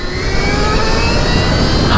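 A Stark Varg electric motorcycle, street legal and set to 80 horsepower, gives a steady, loud high motor whine over a broad rush of wind and road noise, holding continuously with no talk.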